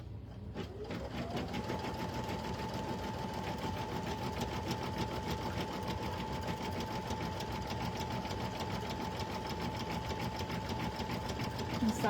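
An embroidery machine stitches a design onto vinyl, giving a steady, fast mechanical whir and rhythmic needle clatter with a constant pitched motor tone that holds throughout, close and continuous.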